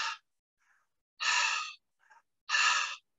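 A voice imitates a harsh gasping inhalation three times, each a loud, breathy rush of air separated by short pauses with faint breaths between.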